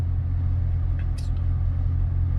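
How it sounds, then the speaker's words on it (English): A Dodge car's engine idling, a steady low rumble heard from inside the cabin, constant and fairly loud with a faint brief chirp partway through. "you don't leave your car running unless you want to sit in your car for this long a period of time"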